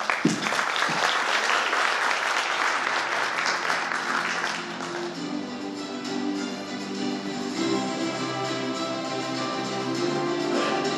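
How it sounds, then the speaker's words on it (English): An audience at a corporate audit management presentation applauds as a speaker takes the stage, sustained clapping that carries on for several seconds, then gives way to music and a low hum. "let's give round of applause for Pak Wahyu Endas"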